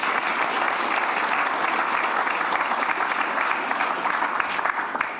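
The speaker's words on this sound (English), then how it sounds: "let's just give another round of applause to them" Steady, dense audience applause at an AI summit session fills the room evenly from start to finish, with no talk over it.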